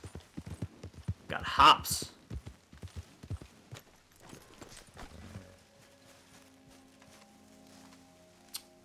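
Horse hooves clip-clopping in the video game Red Dead Redemption 2, an irregular run of hoof knocks under casual talk, followed by quieter game ambience with a low steady hum.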